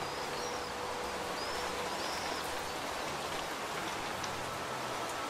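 Rain in a video game, a dense, even hiss of falling water filling the scene, with a few faint chirping calls on top.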